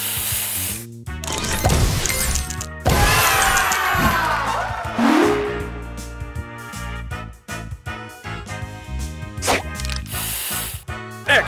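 Cartoonish spray booster effect in the Match Masters mobile puzzle game, a loud hissing whoosh followed by bursts of cheering, chimes and squishy popping sounds in quick succession.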